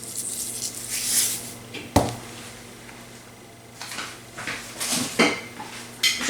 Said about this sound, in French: Et je vais mélanger ma charmoula pour en faire une bonne sauce.